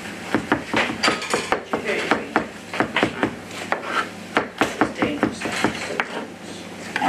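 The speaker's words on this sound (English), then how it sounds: "keep your knife on your chopping board, and you can just move it around diagonally" Knife chopping onion on a chopping board, a run of quick, sharp taps in an uneven rhythm, close and fairly loud, with brief pauses between bursts.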